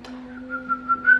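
A single thin, wavering whistle with a few short rising pulses, close and fairly soft, no talking.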